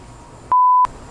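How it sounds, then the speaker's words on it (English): A kitchen timer gives one loud, steady electronic beep lasting about a third of a second, alone in a quiet room. "My timer's going off."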